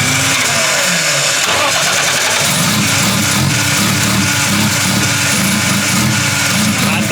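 An RB30E+T turbocharged engine cranks and fires for the first time, then settles into a loud, steady, rough idle with a continuous droning rumble close by.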